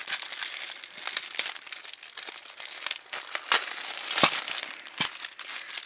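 Plastic heart-shaped bag being opened, a close, steady crinkling and crumpling with sharper crackles throughout, loud and continuous, with no talking.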